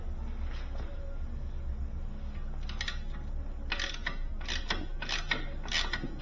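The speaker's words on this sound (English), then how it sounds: "This is a star wrench." Metal ratcheting clicks and mechanical creaks from a star wrench loosening the wheels on a Viking Professional VCBB363 refrigerator, with bursts of clicking growing denser toward the end over a steady low hum.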